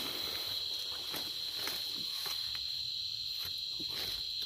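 Field crickets chirping at night in open ground, a steady high continuous trill close by with faint rustling and soft steps underneath, no talk.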